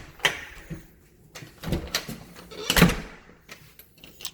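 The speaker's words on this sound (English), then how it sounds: "This door don't latch right." A house door with a faulty latch is worked open and shut, giving several uneven thumps, rattles and knocks from close by, the loudest clatter near the end, with no speech.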